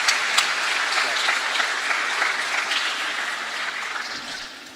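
A church congregation applauds a preacher: steady, dense clapping from many people fills the room at moderate volume, then thins slightly toward the end.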